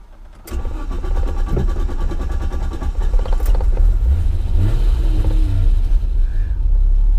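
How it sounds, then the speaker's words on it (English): An Alfa Romeo Zagato SZ engine cranks and catches after a short moment, then settles into a loud, rough idle with a few light revs, close by and without talk. "Let's get it fired up and let's go for a spin."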